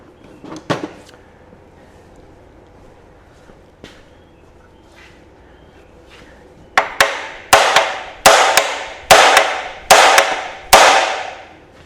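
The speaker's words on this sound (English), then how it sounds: "let's give this a bit of a larrup in with the hammer" Hammer blows on the body of a Mini 1275 GT under restoration: a few faint taps, then six hard, evenly spaced metallic strikes ringing out close and loud in the second half.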